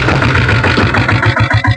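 Diesel Royal Enfield Bullet motorcycle engine starting and settling into a steady, loud, close thumping beat, with a regular low-pitched pulse throughout and no voices.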